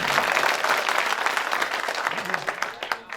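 A mushaira crowd in Mumbai breaks into loud, sustained applause for a poet, many hands clapping densely and close, tapering slightly near the end as a voice begins.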